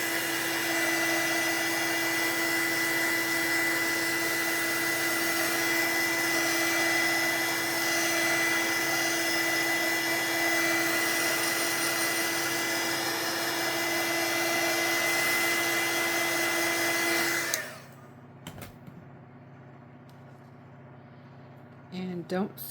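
A heat dryer used on acrylic pour paint blows loudly and steadily with a constant whirring hum, then cuts off abruptly, leaving near silence with a few faint rustles.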